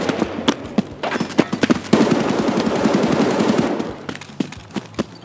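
Rapid automatic gunfire in the shooter Escape from Tarkov, loud bursts of sharp cracking shots in quick rhythm, with a denser stretch of overlapping fire in the middle and scattered single shots around it.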